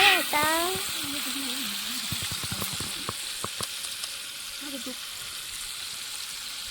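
Chopped onion fries in a large pot for a big 10 kg batch of biryani, a continuous loud sizzle with a short voice at the start and a few scraping clicks from stirring.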